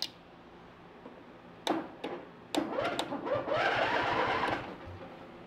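Lawn mower engine being cranked over without starting, a few sharp starter bursts followed by a sustained whirring crank that rises and then cuts off, close in a shop, with no voices.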